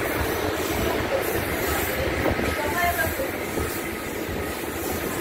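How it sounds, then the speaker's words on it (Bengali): The Malda–SMVB superfast Amrit Bharat express train thunders past nearby. A continuous loud roar of wheels and carriages rolls on with faint rail squeal. "হয়ে গেল মালদা এসএমভিভি সুপারফাস্ট অমৃত ভারত"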